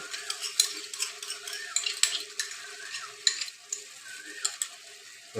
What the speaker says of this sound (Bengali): এই টক দইটা দিয়ে সঙ্গে সঙ্গে কিন্তু এটাকে নাড়তে হবে মিডিয়াম ফ্লেমে।